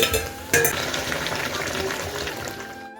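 Water is poured into a pot of sizzling meat, starting with a sharp burst of loud hissing and clatter, then settling into a steady bubbling sizzle that fades at the end.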